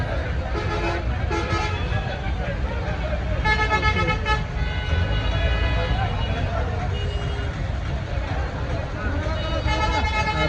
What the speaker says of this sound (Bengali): কতটা ট্রাফিক এই জায়গায়।